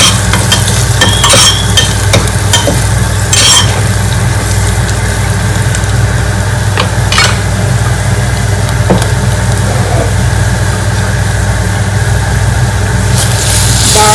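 Spices including red chili powder, coriander powder and black masala are stirred in hot tempering oil (phodni), giving a loud, continuous close-up sizzle with a low steady hum beneath and occasional scraping stirs.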